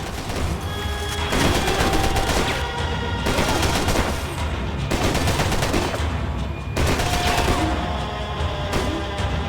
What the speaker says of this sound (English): It was a waste of bullets.